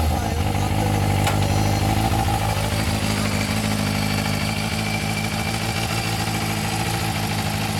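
A Yoshimura custom Suzuki GSX400S Katana, an old four-cylinder motorcycle, idles loudly and close with a steady, throbbing exhaust drone, and a faint voice briefly comes through underneath.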